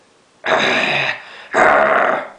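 An angry dog growls in two sustained, rough bursts separated by a short pause, close and loud with no one talking.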